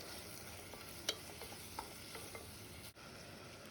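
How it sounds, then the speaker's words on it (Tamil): Onions and tomatoes sauté with a little salt in a pan for an agathi keerai kuzhambu. A faint, steady sizzle runs throughout, with a few soft stirring clinks and scrapes and no talk. "இப்போ இந்த வெங்காயம் தக்காளி சீக்கிரம் வதங்கிறதுக்காக கொஞ்சமாக உப்பு சேர்த்துக்கலாம் இப்போ நம்ம நல்லா வதக்கி விடலாம்"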